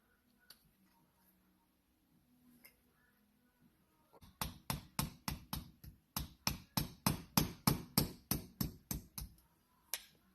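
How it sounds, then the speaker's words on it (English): A tiny hammer taps a pop rivet through a Honda N600/Z600 carburetor during teardown: after a quiet start, about eighteen sharp, evenly spaced metallic strikes ring out close by, with no talk. "And you want to get a tiny hammer."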